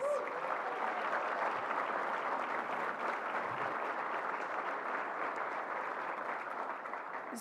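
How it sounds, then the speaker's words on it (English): Sustained applause from an awards dinner audience celebrating community college excellence, a dense, steady wash of many hands clapping that holds evenly for the whole stretch with no voices on top. "Give that a round of applause."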